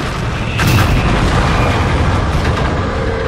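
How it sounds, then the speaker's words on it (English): A big explosion in the Halo 5: Guardians video game: one loud, broad boom hits early, then a dense rumbling roar carries on with a smaller burst near the end. "And have a big explosion."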